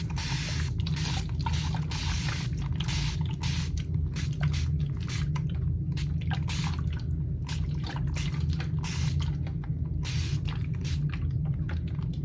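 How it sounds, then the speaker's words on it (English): A spray bottle spritzes water onto wet paint in a series of quick, hissing bursts, fairly evenly spaced, over a steady low background hum. "while the paint is still very wet, I'm going to spritz it with some water."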